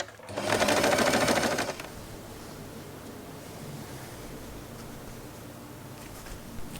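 A sewing machine runs in one steady burst of about a second and a half, stitching fabric along a marked curvy line for a long-tail scrunchie, then stops, leaving quiet room noise.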